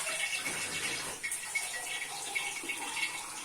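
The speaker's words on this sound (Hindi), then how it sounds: "अब देखिए मैं इसमें पानी डाल दूंगा, पानी इतना डालूंगा जिसमें मेरी पालक अच्छे से गल जाए।" Water poured from a vessel into a pot of spinach and beef for a Pakistani palak gosht, a soft steady splashing gush that runs continuously at close range, fairly quiet, with no talking.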